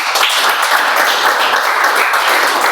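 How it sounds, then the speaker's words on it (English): A meeting audience gives a guest a dense, sustained round of applause, loud and close, with many hands clapping evenly throughout and no voices rising above it. "Can we have a round of applause for our guest, please?"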